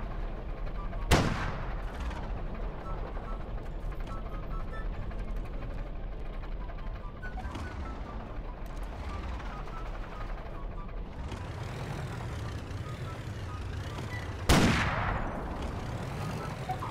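Two loud, sharp anti-materiel rifle shots ring out in a video game with the J.I. Defense Solutions addon, spaced far apart over a steady background rumble of engines and distant combat.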